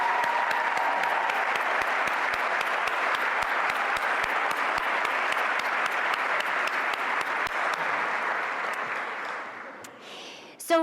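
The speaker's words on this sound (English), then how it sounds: "Could you join me in giving them a round of applause" Sustained applause from a banquet audience honoring student volunteers at a fundraising gala, a thick wash of clapping that holds steady for several seconds before thinning out near the end.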